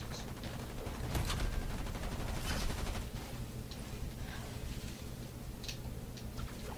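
Rapid gunfire from the video game Fortnite rattles in dense, continuous bursts over a steady rumbling game soundscape, moderately loud throughout.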